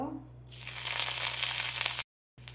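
Nigella seeds hit hot oil in a wok, breaking into a steady, close crackling sizzle that runs for about two seconds before cutting out briefly, with a low steady hum underneath.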